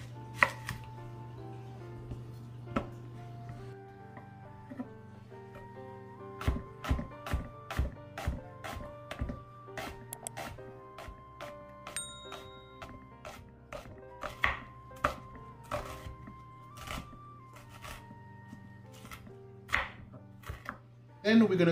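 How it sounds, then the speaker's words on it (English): A knife chops an onion on a cutting board in a run of sharp, close, fairly regular knocks with short pauses, the strokes bunching faster toward the end; no one speaks. "Now I'm going to cut up my onion."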